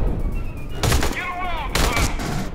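Assault rifle fire in Aliens: Colonial Marines comes as two close, loud bursts about a second apart, over a background of game noise.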